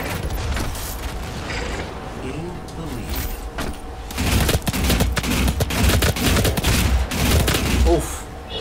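Rapid bursts of weapon fire in DOOM multiplayer on Xbox One, loud and close with mechanical clanks and creaks, the firing growing denser in the second half, mixed with a player talking over the action.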